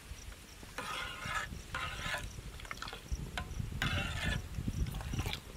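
Milk being stirred continuously in a pot with lemon juice added to curdle it, a steady rough scraping wash with a few brighter swishing strokes, close and alone with no talk.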